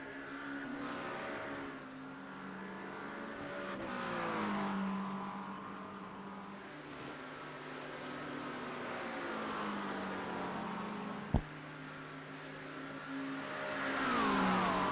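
A McLaren 720S race car screams around Spa in iRacing, with steady high-revving engine whine rising and falling through gear changes and a brief sharp click midway.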